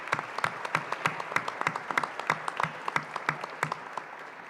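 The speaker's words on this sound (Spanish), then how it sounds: "a la maestra Mariana Aguilar López, a quien pido un aplauso para ella" Audience at a formal public event in Veracruz gives sparse, scattered applause, a small group's individual claps heard distinctly and fairly near, steady for several seconds.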